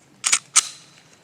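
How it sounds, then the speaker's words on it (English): A 19X pistol magazine is seated with two sharp, close metallic clicks a fraction of a second apart, followed by a brief fading ring. "Put my 19X mag in there."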